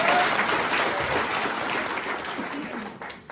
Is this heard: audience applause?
yes